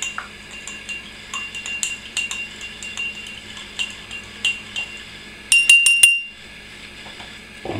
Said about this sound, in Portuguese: E ali no bicarbonato, deixa eu mexer bem ali.